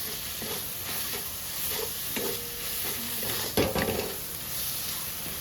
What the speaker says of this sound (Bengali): পেঁয়াজের সঙ্গে রসুনটাকেও ভেজে দেবো।